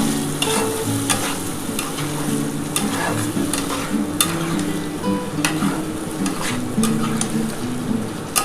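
Ritha fish curry with potatoes simmering in a pan as spice water is added: a loud, steady bubbling sizzle with frequent sharp crackles and clinks, close by and without speech.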